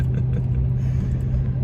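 A car with a 4.6 engine accelerates hard, its steady, loud low-pitched drone and rumble heard from inside the cabin with no break or pause.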